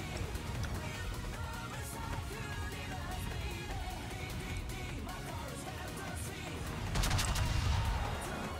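Secondary guns on the warship Montana fire in a naval battle video game, a dense, continuous barrage of overlapping distant booms with a louder burst near the end, under game background noise.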